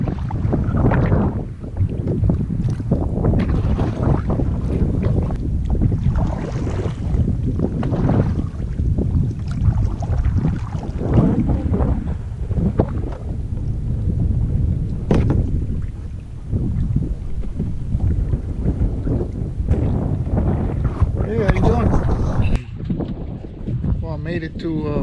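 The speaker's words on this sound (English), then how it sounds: "As you can see, it is windy. I mean, real windy." Strong wind roars and buffets the microphone throughout at Pearl Bay Chickee in Everglades National Park, loud and constant, with a person talking over it.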